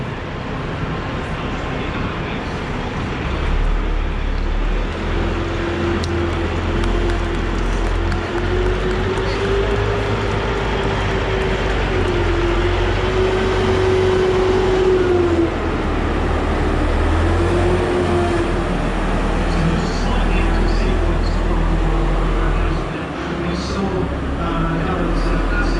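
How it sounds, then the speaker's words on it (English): A vehicle powered by an Allison diesel engine mated to an Allison gearbox idles and runs with a steady low rumble and a wavering higher whine, at a cart marking ceremony in Guildhall Yard, City of London, while a voice narrates over it. "powered by an Allison diesel engine"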